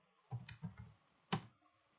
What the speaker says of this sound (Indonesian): Dan sekarang di sini saya akan mengetikkan ipconfig